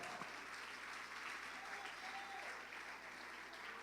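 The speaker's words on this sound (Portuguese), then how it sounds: "Aplaude se você entende." A church congregation claps during a sermon on the blood of the Lamb, a continuous moderate applause heard at some distance with a faint low hum underneath and a voice briefly audible.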